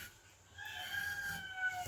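A rooster crows at a distance, its drawn-out call rising over a faint background hum.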